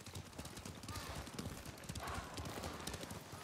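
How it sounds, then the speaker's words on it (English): Horse hooves clip-clop in a steady rapid rhythm in the Ghost of Tsushima video game, quiet and continuous throughout the short stretch with no talking. "We'll leave the horses to avoid being seen."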